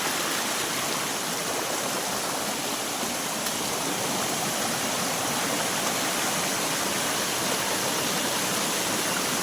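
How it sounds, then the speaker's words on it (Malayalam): Water from the second tier of a waterfall crashes at its base, a loud, steady, broadband roar that holds constant throughout with no voices. "ഇവിടെയാണ് ആ രണ്ടാമത്തെ വെള്ളച്ചാട്ടം വന്ന് വെള്ളം വീണ സ്ഥലം വന്നത്."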